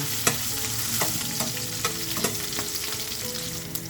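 Crushed garlic and chillies frying in a pan over a medium flame, a steady close sizzle with repeated sharp scraping clicks from stirring, no voices.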